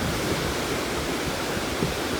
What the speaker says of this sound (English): Very cool river.